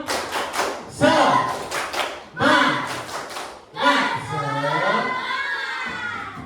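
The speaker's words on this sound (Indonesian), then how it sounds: "ayo kita tepuk semangat lagi. Tepuk semangat." A class of schoolchildren performs the 'tepuk semangat' cheer, bursts of rhythmic group clapping alternating with shouted chanting voices, loud and close, ending in a sustained sung shout.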